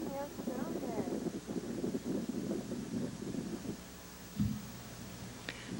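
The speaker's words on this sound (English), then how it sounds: "It's windy, like always." Gusty wind blows steadily across an open desert site at a Stonehenge replica, buffeting the microphone with a low rumble, while people talk over it.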